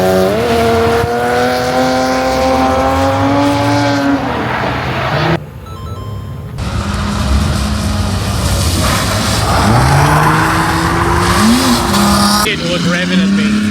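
Drift cars at a drag and drift night rev loudly and skid, with engine pitch climbing and falling, a brief gap, then more revving and tire noise, while people talk and shout nearby.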